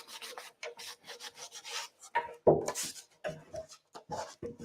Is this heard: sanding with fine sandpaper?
yes